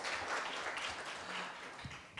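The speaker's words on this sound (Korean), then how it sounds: "지금까지 발표해 주신 8개 팀들에게 다시 한번 뜨거운 박수 부탁드립니다" An audience at a Korea University campus-town startup fair gives quiet, continuous applause for presenting teams, a soft and even patter of many hands heard from a distance.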